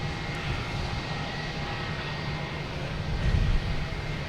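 An Alaska Airlines jet arrives from Seattle at Boston Logan, a moderate steady engine drone with a faint high whine, swelling slightly louder near the end.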